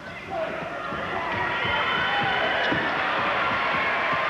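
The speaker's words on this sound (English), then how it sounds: "The crowd comes to life." A volleyball crowd at the 1986 Goodwill Games swells into a broad roar of cheering that rises after the first half-second and stays loud, with a commentator's voice underneath.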